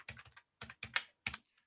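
Quick bursts of keystrokes click on a computer keyboard as code for a small program is typed. The clicks come in four short clusters with brief pauses between them, close and fairly quiet.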